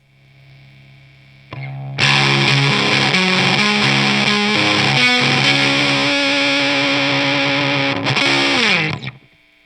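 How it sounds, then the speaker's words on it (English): Electric guitar played through a smallsound/bigsound Mini Overdrive pedal with the gain turned high, giving a thick, ripping fuzz tone: a few quiet notes, then loud sustained distorted chords that ring for several seconds and cut off. "when we turn the gain way up, it gets really, really interesting and really fuzzy"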